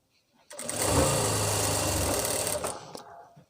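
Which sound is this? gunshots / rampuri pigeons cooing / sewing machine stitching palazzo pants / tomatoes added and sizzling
sewing machine stitching palazzo pants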